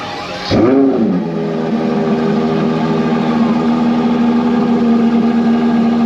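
A Ferrari 812 Competizione's 6.5-liter V12 blips sharply, then settles into a loud, steady high-pitched drone, sustained and close for several seconds at a car show.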